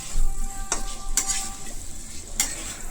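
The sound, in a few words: potatoes being stirred and fried in spice masala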